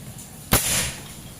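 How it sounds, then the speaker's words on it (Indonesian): A single sharp crack from a PCP air pistol, a Predator Python P-32 with a stainless 2700 psi tube and 25 cm barrel, as the pellet strikes a brick target, heard once and clearly with no talk. "Sekarang tembakan kedua,"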